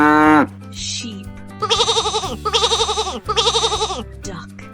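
Three loud, wavering sheep bleats in a row, each a drawn-out quivering cry, rising over a light musical backing.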